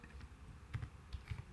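Quick bursts of keystrokes on a computer keyboard, clustered in short rhythmic groups, close and fairly soft, with no voices.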